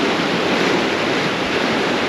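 Ocean swell and surf roar continuously and loudly around a rock fishing spot, with strong wind buffeting the microphone and no voices.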